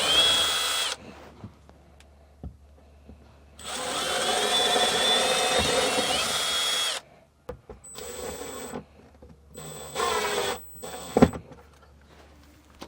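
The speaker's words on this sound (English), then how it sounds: "So I'll drill 4 pilot holes here" A power drill boring pilot holes to mount a leveling control panel in a 2022 Forest River RV, heard as separate whirring bursts of a few seconds each, with quiet pauses and small clicks between them.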